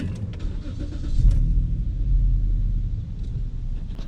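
A Ford Taurus Police Interceptor with about 132,000 miles starts up, its engine turning over and settling into a low, steady idle rumble close by, with no talk.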